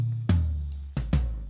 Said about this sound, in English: let's just solo the toms on its own